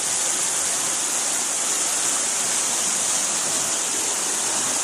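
A strong current of flood water rushes in a continuous, loud, dense roar with no pauses, heard close and alone.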